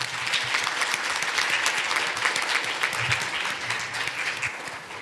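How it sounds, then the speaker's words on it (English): Audience at the 2025 ANTHC Annual Meeting applauding speakers on stage during a conference session: sustained, dense clapping from a large room that stays loud and even throughout, with no voices over it. "why don't we give a round of applause here for those that are on the stage"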